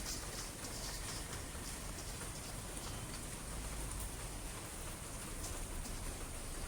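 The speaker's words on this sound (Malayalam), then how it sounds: "ഞാൻ ഈ വീഡിയോ എഡിറ്റ് ചെയ്ത് ഈ വോയിസ് റെക്കോർഡ് ചെയ്യുന്ന സമയത്ത് പുറത്ത് നല്ല മഴയാണ്" Heavy rain falling outside during a home cooking recording, a steady, dense hiss of rainfall with a low rumble underneath, constant and unbroken throughout, with no talking.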